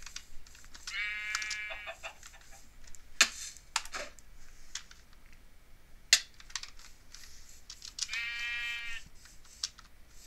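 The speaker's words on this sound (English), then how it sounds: "These sheep still haven't regenerated their wool." Sheep in the Minecraft video game bleat twice with wavering calls, one early and one late, amid soft clicks and taps of a computer keyboard.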